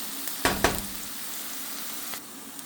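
Curry leaves hit hot oil over softened onions and tempering seeds for dondakaya fry, giving two sharp crackling bursts and then a steady close sizzle that eases off.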